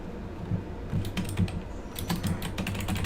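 A code is typed on a computer keyboard in short clusters of crisp, close key clicks with brief pauses between, over a low background hum.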